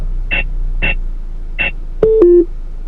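A custom-installed radar detector sounds through a car stereo: three evenly spaced short beeps, then a two-part falling chirp for a K-band alert, clear and close.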